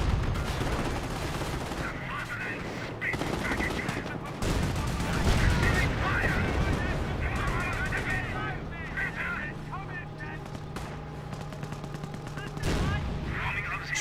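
Stuka firing in Company of Heroes, dense overlapping battle gunfire and explosions in a busy wartime mix, continuous and loud, with a voice commentating over it.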